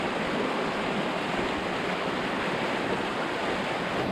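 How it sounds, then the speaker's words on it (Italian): Water pouring steadily out of the spring at the source of the Meschio river near Vittorio Veneto, a constant loud rushing wash with no pauses, close to the listener. "Questa qua è tutta acqua che esce dalla sorgente."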